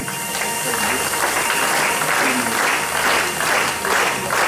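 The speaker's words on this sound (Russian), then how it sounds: "Аплодисменты звучат для вас." Dense, steady applause from an audience at an oil company award ceremony honoring workers, loud and continuous throughout with a few voices faintly underneath.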